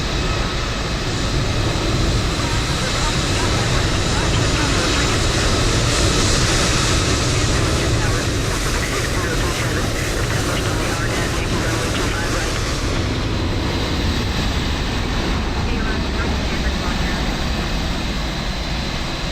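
An airliner's engines roar steadily on its takeoff roll from runway 25 left in Microsoft Flight Simulator, a loud continuous broadband rumble that swells slightly and holds.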